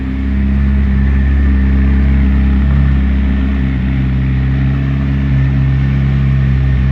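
A 2019 McLaren 600LT in Onyx Black sits running with a steady, deep engine drone, close and loud, holding an even idle with no talk over it.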